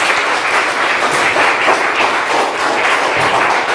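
A church congregation applauds for God during a Spanish-language sermon, a dense, steady wash of many hands clapping at once that carries evenly through the whole stretch without any talking.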